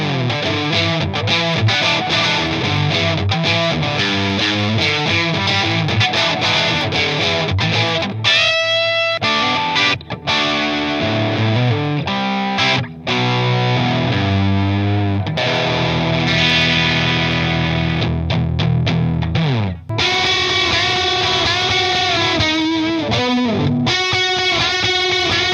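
Electric guitar played through a Redbeard Effects Red MIST MkIV distortion pedal, loud and saturated with sustained chords and riffs, brief choppy stops and rhythmic picked passages, no talking.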